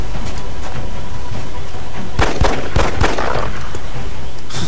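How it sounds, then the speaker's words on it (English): Pistol shots in XCOM: Enemy Unknown amid combat noise in Berlin, several sharp cracks clustered together over a steady rumbling, rain-like background. "I gotta take the pistol shot instead"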